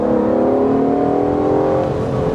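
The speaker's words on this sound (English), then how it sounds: "I can't get enough of that V12 sound." A 2020 Aston Martin DBS Superleggera Volante's V12 engine pulls hard under acceleration, a loud, close, steady drone with harmonics that climb slowly in pitch.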